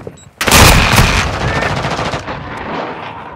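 Loud, close bursts of rapid automatic gunfire in Call of Duty: Modern Warfare II, a dense rattling volley that fades into trailing echoes over a few seconds.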